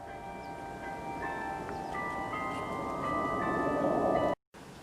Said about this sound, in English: early in the morning like this, we always hear the church bells